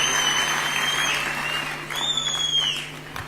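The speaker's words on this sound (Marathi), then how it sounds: "आपण जोरदार टाळ्या वाजून त्यांचं मनापासून अभिनंदन आणि कौतुक करूया" A crowd at a Nationalist Congress Party anniversary rally applauds loudly, a dense, steady wash of clapping that eases slightly midway before swelling again.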